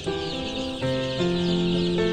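Month-old country chicks, a native village breed, clucking and peeping in a steady overlapping chorus of close, fairly loud calls with no talk over them.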